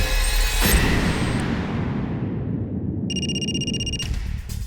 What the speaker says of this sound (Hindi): सर आशा के ससुर का फोन है